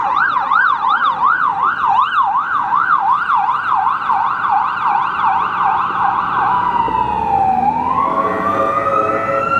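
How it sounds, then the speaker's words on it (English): An ambulance siren wails loudly on a busy Vancouver street, cycling in a fast yelp pattern before the pitch drops and sweeps as the vehicle passes close by, with no talking over it. "there is totally an ambulance going past."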